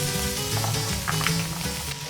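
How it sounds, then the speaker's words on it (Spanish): Chopped squid sizzling in a paella pan for a sofrito for arroz a banda, a steady close hiss of frying that holds at an even level throughout, with no voices. "Lo que quiero conseguir es caramelizar mucho el calamar picadito"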